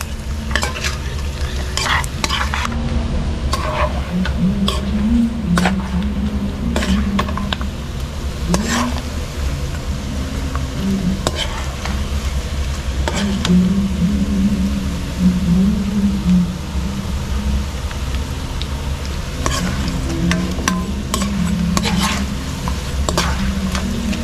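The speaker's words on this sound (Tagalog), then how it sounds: "Mapiprito siya sa sariling mantika niya guys." Pork belly fries in its own rendered fat for a crispy pork belly dish, a steady close sizzle with constant popping and occasional stirring scrapes running the whole time, no voices.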